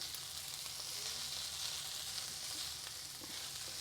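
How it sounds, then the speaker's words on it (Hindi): Beans frying in a pan with ginger and garlic, a steady dense sizzle held throughout with faint stirring clicks, close and continuous with no voices. "थोड़ा सा एक तरफ करके ये जिंजर और गार्लिक थोड़ा सा डालूँगी। थोड़ा सेक मैंने तेज़ कर देना है। अब 2 मिनट इसको भून लेना है।"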